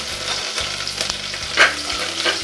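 Curry leaves and green chilli pieces sizzle and crackle in hot oil on the stove, a steady frying hiss with a few brief spoon scrapes as they are stirred, close and fairly loud with no talking.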